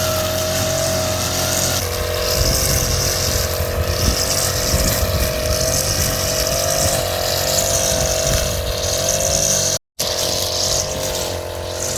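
A grass cutter engine runs steadily and loudly on a dragon fruit farm, a continuous close droning hum with a brief cutout near the end.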